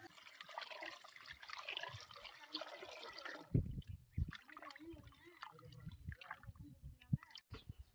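Water splashes and trickles as pieces of aloe vera are rinsed by hand, close and faint, with soft irregular drips and sloshes and some quiet background sound.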